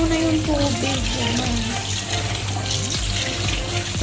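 Tap water runs steadily into a sink while rice is rinsed, a continuous gushing splash that fills the whole stretch, with clinks and background voices faintly underneath.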